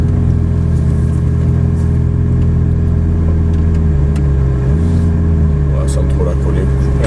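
Ferrari 458 Italia sports car engine at the Luc race circuit, a steady loud low drone with shifting pitch as the car idles and creeps forward, with people talking over it throughout.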